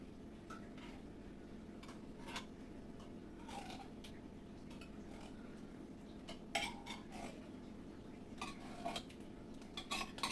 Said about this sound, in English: Just going to kind of spoon it on.